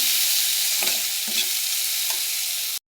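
Chopped onion and green chili fry in very hot oil, a steady loud sizzle with a few stirring scrapes, cutting off abruptly just before the end.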